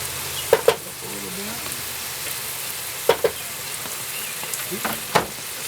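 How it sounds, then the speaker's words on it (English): Sauce sizzles steadily in a pan while a spoon stirs it, with a few sharp scrapes and knocks against the pan standing out over the soft, constant frying hiss, close up. "Stir this all in."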